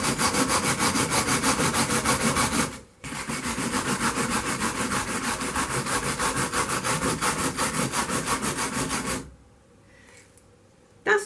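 A used coir brush scrubbing cement off stained glass, a loud, close, steady back-and-forth rasping with a rapid even rhythm, broken by one short pause and ending in near silence before a final stroke.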